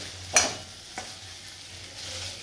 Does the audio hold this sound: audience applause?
no